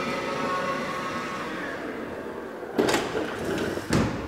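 Two solid thuds of a 2024 Mercedes Sprinter van door, one closing and then another, over a steady low hum, clearly distinct against the background.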